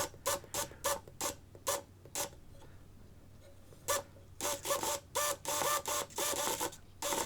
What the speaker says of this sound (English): So let's get the servo tester in and see how we do.